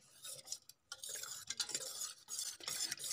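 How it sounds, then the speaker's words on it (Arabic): Whisk or spoon stirring pastry cream in a pot, rapid scraping and swishing strokes at close range, irregular rhythm with a brief pause, no voices. "نبقى نحركو مزيان، نديرو في حليب بارد ماشي سخون باش ما يتكور"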